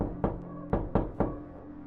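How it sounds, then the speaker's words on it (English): Four sharp knocks on a door, spaced irregularly over under two seconds, loud and close with a low background hum and no speech. "but a new knock froze me in place."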